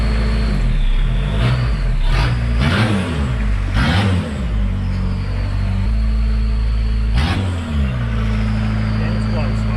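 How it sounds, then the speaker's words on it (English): A Suzuki Vitara with a swapped-in 2.1 turbodiesel engine revs repeatedly during a first test drive, several rising bursts over a steady loud engine drone, blowing smoke, with people talking over it. "Oh, is that revs? It's because it's getting more fuel."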